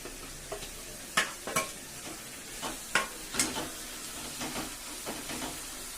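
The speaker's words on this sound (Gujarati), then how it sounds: "આપણે નાખી દઈશું રીંગણા।" Eggplant tossed into hot cooking masala, a soft background sizzle broken by sharp clattering strokes of a spoon stirring in the pan, several irregular scrapes up close and fairly quiet.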